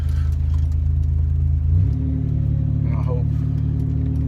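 A lowered Buick Grand National on BMR springs pulls away, its engine rumbling steadily close by, the pitch stepping up as it shifts and rolls on, with a voice speaking briefly over it.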